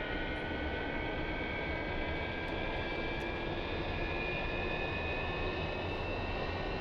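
Left jet engine of a Su-30 spooling up in the DCS flight simulator, a steady loud broadband roar with sustained whining tones running throughout, no voices.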